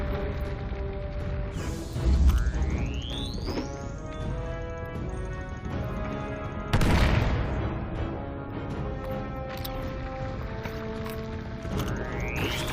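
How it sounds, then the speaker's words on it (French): Booming blasts from a grenade and other weapons in the VR game Star Wars: Tales from the Galaxy's Edge land twice loudly over sci-fi music and rising laser-like sweeps. "Je te sors la grenade."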